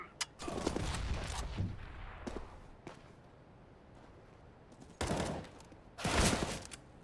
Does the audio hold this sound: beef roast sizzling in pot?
no